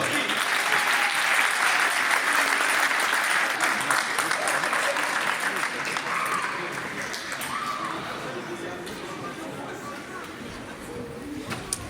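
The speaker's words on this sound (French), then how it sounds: "Vous pouvez l'applaudir." A crowd at a sports awards ceremony applauds a special jury prize winner, long sustained clapping that stays strong and then slowly eases off, with a little talk at the edges.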